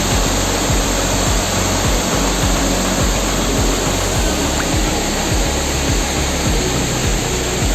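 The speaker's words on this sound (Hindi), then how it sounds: "पेड़ों के बीच से झरना दिखता हुआ और पानी के पत्थर पर गिरने की जो आवाज़ है" A waterfall in Shillong, Meghalaya, roars steadily among trees, water crashing onto rocks in a dense, unbroken rush that stays loud throughout.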